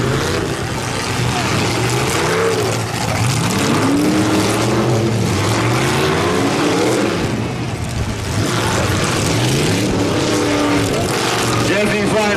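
Full-size stock trucks battle in a demolition derby ring, their engines roaring and revving loudly and continuously at close range, with rough rumbling surges and no pause.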